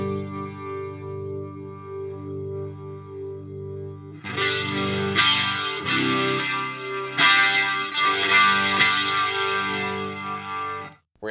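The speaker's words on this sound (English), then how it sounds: "We're going to check out the drive control. This is just going to add a little bit of grit to the sound." Electro-Harmonix Lester G rotary speaker pedal with its drive control added: a steady swirling guitar tone, then from about a third of the way in, louder, grittier driven chords ring in repeated strums, alone without talk.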